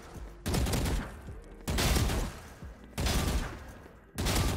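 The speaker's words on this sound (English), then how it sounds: "I'm gonna run out to cover and I'm gonna shoot as I'm like falling back" Valorant gunfire crackles in four loud bursts of rapid shots, each about a second long with short gaps, close and sharp while the player falls back to cover.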